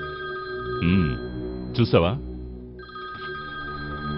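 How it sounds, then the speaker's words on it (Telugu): A telephone rings in a Telugu film scene, a steady electronic tone that runs under a voice as he speaks and grunts over it. "ఫోన్ చెయ్యి నువ్వు ఫోన్ చెయ్యి ఇప్పుడు ఫోన్ చెయ్యి"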